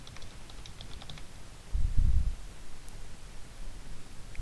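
Keys tapped on a computer keyboard while entering a search term into a database search box, a short flurry of clicks rising briefly in the middle of a quiet stretch with no one speaking.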